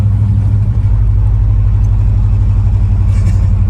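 A 1989 Chevy OBS truck with no muffler roars continuously, its exhaust a loud, deep, throbbing drone held close and steady throughout, with no talk over it.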